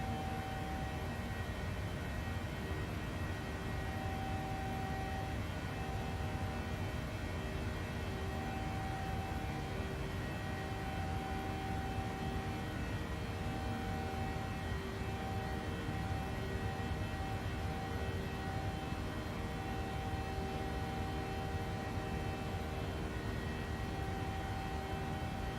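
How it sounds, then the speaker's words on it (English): An airplane taking off and banking into a left-hand turn, its aircraft engine giving a steady, loud, continuous roar with a sustained whine for the whole stretch and no voices. "hope you guys enjoyed that takeoff"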